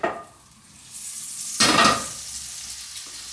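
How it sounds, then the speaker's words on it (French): Butter gently browning in a frying pan in a restaurant kitchen, a soft steady sizzle with a sharper burst of crackle midway before settling back to a low fizz, close and alone. "Notre poêle, le beurre commence à rissoler gentiment"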